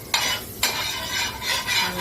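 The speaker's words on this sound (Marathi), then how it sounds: "थोडंसं बटर टाकून घेऊ तव्यावर" Butter sizzles on a hot tava griddle while sandwich bread is made, two sudden crackling bursts of hiss close up, the second sustained and swelling, alongside faint stirring and scraping.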